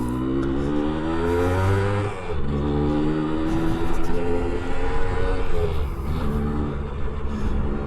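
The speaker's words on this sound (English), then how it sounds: "we just all love that sound of a two-stroke" A 1978 Suzuki TS125 two-stroke motorcycle engine revs loud and close, its buzzing tone rising and falling through gear changes as the bike rides along a road.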